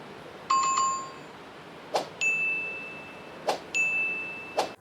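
A bright bicycle-bell style notification chime rings alone, sounding three separate times: a ringing ding, then two sharper strikes that each hold a steady sustained tone afterward.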